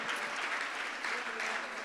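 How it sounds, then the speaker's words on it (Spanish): A church congregation gives a strong round of applause, a dense, even roar of many hands clapping at once, sustained and fairly close, with faint voices mixed in. "Date un fuerte aplauso."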